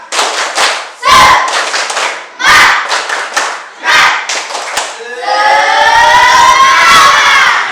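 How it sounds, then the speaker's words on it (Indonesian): A school class claps out a teacher-led rhythmic spirit clap in several quick bursts with short gaps, then the children break into a loud, sustained group shout. "Tepuk semangat."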